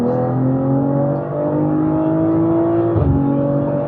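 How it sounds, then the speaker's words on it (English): A Stage 2 tuned BMW M340i LCI engine revs with a steady droning exhaust note, rising slightly near the end, loud and close with no talking. "But the exhaust note sounds really nice."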